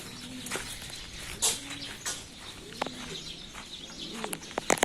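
Pigeons coo repeatedly in short rounded phrases close by, mixed with chirps and a brief flutter of wings, with no one speaking.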